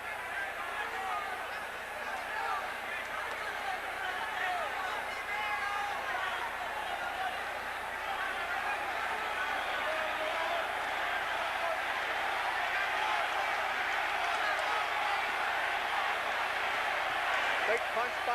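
A big boxing-arena crowd roars steadily through a 1980 bout between José Luis Ramírez and Alexis Argüello, a constant dense wash of cheering that carries on under ringside commentary.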